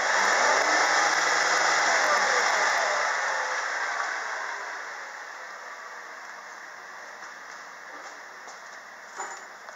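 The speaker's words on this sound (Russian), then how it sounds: "Работа двигателя на повышенных оборотах." A Chevrolet Captiva 3.2 petrol engine with 187,000 km on it revs above idle, giving a steady, loud, close hum that eases gradually toward a lower drone over several seconds.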